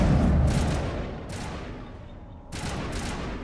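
Mass Effect Legendary Edition gunfire: rapid bursts of rifle shots and booming blasts, loud at first, then fading to a quieter rumble before another burst of fire erupts.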